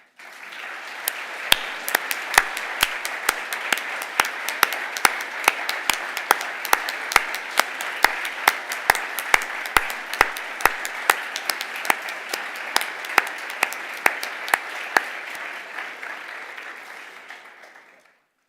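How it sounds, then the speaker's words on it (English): A conference audience breaks into sustained applause, a dense wash of clapping with sharp individual claps standing out, holding steady for about fifteen seconds before fading out. "So I'm going to ask for 15 seconds of applause."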